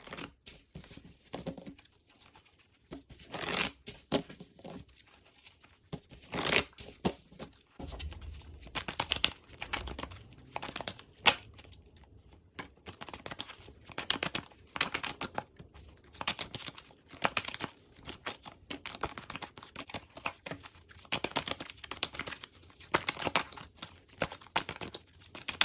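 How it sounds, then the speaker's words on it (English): Tarot decks being shuffled and cards drawn, heard as repeated crisp riffling and flicking bursts with papery rustles in between, close and fairly quiet with no talking. "all the decks have been shuffled and drawn"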